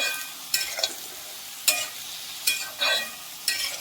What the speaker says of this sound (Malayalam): നല്ലോണം ഒന്ന് ഇളക്കി മറിക്കാം.